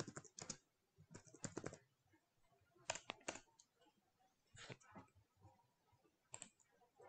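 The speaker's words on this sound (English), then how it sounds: "just type the products you want to add as related to the current product, like this" Typing on a computer keyboard while entering product names into a WordPress WooCommerce form, quick bursts of close, crisp key clicks separated by short pauses.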